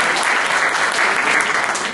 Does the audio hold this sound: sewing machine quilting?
no